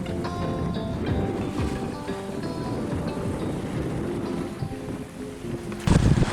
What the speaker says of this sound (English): I am literally making my boat sail towards the wind